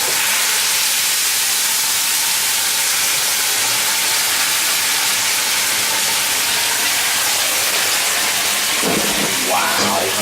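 Sauce that has simmered for six hours hits a hot pan with olive oil, giving a steady broad sizzling hiss throughout, with a brief louder crackle near the end.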